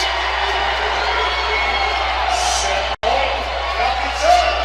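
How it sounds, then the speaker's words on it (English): A crowd at a college volleyball playoff game in a gym roars and cheers continuously after a winning point, a broad loud wash of voices with a brief cutout midway. "this crowd erupts"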